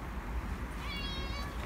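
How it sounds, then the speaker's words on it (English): A hungry cat meows to be fed in a kitchen garden, a single drawn-out meow rising clearly above steady outdoor background noise. "The cat wants feeding."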